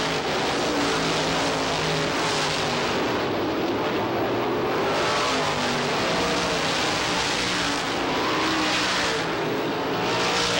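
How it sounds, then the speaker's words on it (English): Supermodified race cars thunder along the backstretch at Lee USA Speedway, a continuous loud roar of engines that swells and eases slightly as the field passes. "There's your leader, Mike Ordway. Out of Fremont, New Hampshire in the Graves Racing Car number 1. A good-sized lead down the backstretch"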